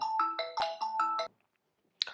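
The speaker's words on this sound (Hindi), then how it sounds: "फ़ोन कॉल आ गया था।" A phone ringtone for an incoming call plays as a melodic electronic tune, close and clear, for just over a second. After a pause a short chirp follows, with no talking.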